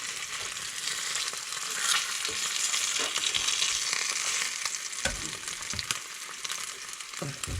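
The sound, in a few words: brook trout frying in a pan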